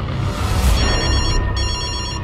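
A telephone rings loudly in a thriller movie trailer, a close electronic trill repeated twice with a brief gap, over a low dramatic background swell.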